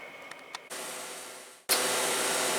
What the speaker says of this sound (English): a little bit noisy because I got the freeze dryer going again